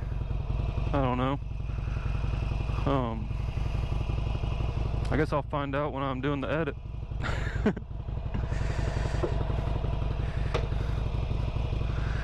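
A 2008 Harley-Davidson Sportster 883L motorcycle engine idles with a steady low rumble throughout, while someone talks over it close to the microphone.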